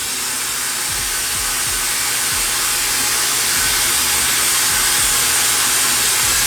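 A blasting machine cleans and brightens an aluminum motorcycle part, making a loud, continuous hiss of rushing air and media that holds steady throughout with no talking.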